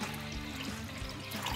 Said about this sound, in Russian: Теперь в эту кастрюлю мы наливаем воды. Воду наливаем холодную.